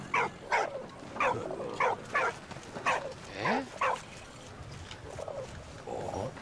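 Dog in the video game Valiant Hearts whimpering and crying in a string of short, plaintive yelps and whines, fairly close and repeated at an irregular rhythm, with a brief spoken exclamation between them.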